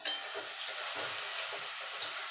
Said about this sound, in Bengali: এবার এটাকে ঢাকা দিয়ে লো টু মিডিয়ামে এটাকে আমি ভাজা ভাজা করে নেব